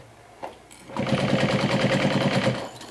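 A sewing machine stitches through the thick layers of a Swoon Lucy quilt, starting after a brief knock and then running as a steady, rapid, even mechanical rhythm close by for about two seconds.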